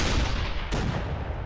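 A shotgun fires in the artillery video game ShellShock Live, a loud, dense burst of gunfire-like blasts that fills the whole moment with no break.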